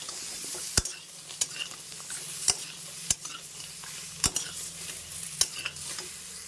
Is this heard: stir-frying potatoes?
yes